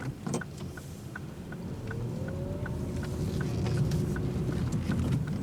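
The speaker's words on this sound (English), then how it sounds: "I'm just waiting for the vehicle now from the right." A car approaches from the right and passes on a road, its engine rumble rising steadily and growing louder and closer over a few seconds, with a faint whine above the low hum.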